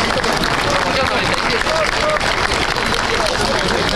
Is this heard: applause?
yes